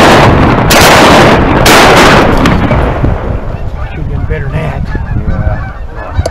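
A flock of geese honks loudly and close during a goose hunt, a dense burst of calls that dominates the opening seconds, mixed with heavy impulsive blasts that could be shotgun fire, then thins to scattered calls and rustle.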